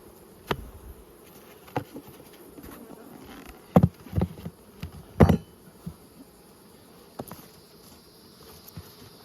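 Honey bees hum around open hives on frames at an apiary in good outdoor conditions, a soft steady drone broken by several louder close passes of individual bees and a few small knocks.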